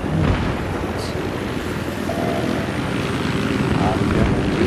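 Helicopter in the Battlefield 3 video game flying steadily, a continuous loud rotor and engine drone filling the whole stretch with no pauses.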